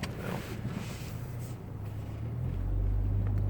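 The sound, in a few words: car engine decelerating, exhaust crackles not working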